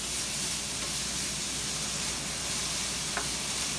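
Julienned carrots and cabbage sizzle steadily in a hot pan, a dense, even frying hiss that stays close and constant, with a faint stir or clink near the end.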